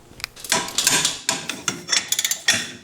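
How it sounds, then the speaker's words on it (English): Metallic clanks and taps from work on the brake caliper bolts of a lifted Toyota 4Runner, Tacoma or FJ Cruiser, a series of sharp close knocks in uneven rhythm with no talk. "we're going to remove the caliper and hang it off to the side by taking out these two bolts"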